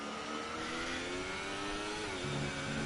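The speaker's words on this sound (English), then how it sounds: "you can hear him hit the limiter off there in the Haas car as he enters into turn 8 now" Haas Formula 1 car in an F1 racing game at the Brazilian Grand Prix, its engine buzzing high and steady as it bounces off the rev limiter, then shifting pitch near the end, with no voices.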